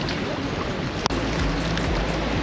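Strong ocean waves at Helicopter Island in El Nido, Palawan, make a steady broadband roar mixed with wind buffeting the microphone, with one brief knock partway through.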